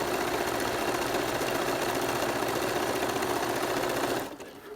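A sewing machine runs steadily, back stitching a rope bowl with a continuous mid-pitched whir and rapid needle chatter, loud and close, before stopping abruptly near the end.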